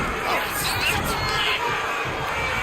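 Arena crowd at a wrestling match in the WWE 2K26 video game, a steady wash of cheering and crowd babble that holds at an even level throughout.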